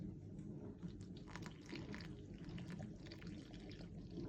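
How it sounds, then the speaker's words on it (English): Water being poured bit by bit into flour while mixing a sourdough starter, a soft continuous trickling and splashing at close range with faint stirring noises. "So add the water bit at a time and mix it."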